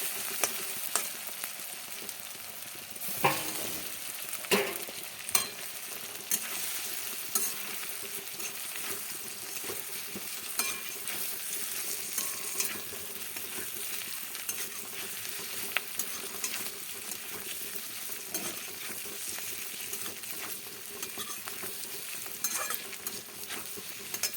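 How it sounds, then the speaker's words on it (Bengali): Ginger, garlic and fried pakoras sizzle in a hot pan for chilli chicken, a steady crackling fry broken by several sharp scrapes and knocks of a spatula stirring against the metal. "একটু ভেজে নেবো হালকা করে, বেশি ভাজার দরকার নেই"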